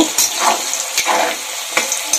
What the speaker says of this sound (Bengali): অল্প নুন দিয়ে আলুগুলোকে একটু ভেজে নিব।